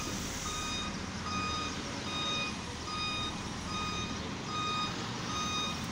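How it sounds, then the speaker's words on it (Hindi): A concrete mixer truck reverses on a construction site, its warning alarm beeping in a steady repeating pattern over a constant engine rumble. "कंक्रीट का गाड़ी आ चुका है आप लोग देख रहे हैं कंक्रीट का गाड़ी आया"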